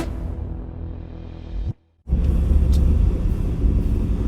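A 2017 Chevrolet Silverado Z71 4x4 pickup with a V8 drives along, its steady low rumble of engine and road noise loud and close, broken by a brief near-silent gap before the drone resumes.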